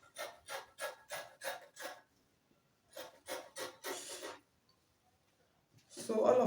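Scissors rasp through a paper dress pattern in two bursts of repeated rhythmic snips, close and clear, separated by a brief pause, followed by a louder rustle of handled paper at the end.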